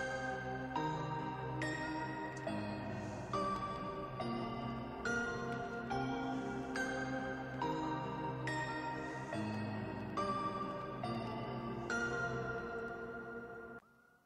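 A bell-like synth melody for a drill beat plays steady notes in a repeating rhythm, each note ringing with a shimmering effect, then cuts off at the end.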